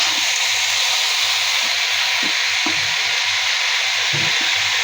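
Bottle gourd greens with broad beans and potato fry in a pan with a loud, steady hissing sizzle and a few soft stirring knocks, with no voices.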